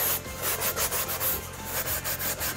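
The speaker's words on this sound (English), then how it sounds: "That's easily sanded off with a piece of sandpaper." Sandpaper rubs back and forth along the edge of a fondant-covered cake board in quick, even strokes, a close, steady, scratchy rasp with no voices.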